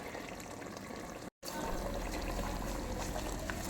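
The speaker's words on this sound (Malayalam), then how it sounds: "ഇതനുസരിച്ച് നമുക്ക് വെള്ളം ചേർത്തിട്ട് അരിയിടാം." Water pours steadily into a pressure cooker for chicken biryani, with a continuous splashing flow that breaks off for a moment near the middle and then resumes at full strength.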